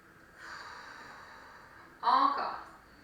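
Deep breath taken during a gentle stretching session: a soft, airy inhale that rises and holds, then a sharper, louder breath or sigh near the end, close and alone without talk.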